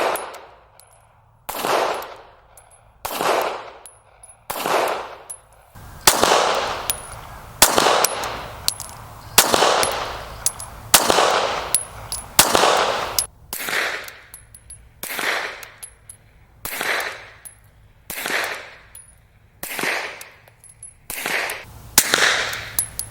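Pistol shots through a Lone Wolf Arms Elimin8r 45 suppressor, a long series of loud muffled cracks, each trailing off with a short echo, fired at a steady, unhurried pace over about twenty seconds.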